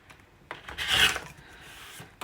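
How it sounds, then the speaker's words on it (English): A foundation paper pieced quilt block being trimmed, a single soft rasping cut swelling and fading near the middle, with faint taps before and after, close and quiet with no speech. "I'm going to just trim off 1/4 inch from either side"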